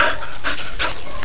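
Tracking dog panting close by just before being released on a hunt, several quick rhythmic breaths in a short burst.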